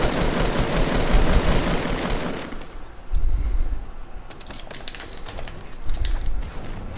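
Rapid automatic gunfire bursts from a shooting video game, loud and dense for the first two seconds, then scattered shots and impacts continue over the background sound of the game.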